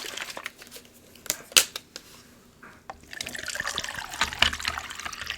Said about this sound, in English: Let's get this water going.